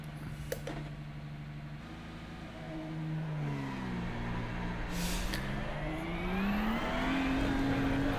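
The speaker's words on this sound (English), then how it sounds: "Or is the car too loud again?" A GT3 race car engine in the iRacing simulator, a steady droning hum whose pitch climbs and falls through gear changes, with a couple of sharp clicks early on.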